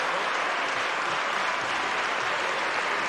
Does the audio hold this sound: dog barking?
no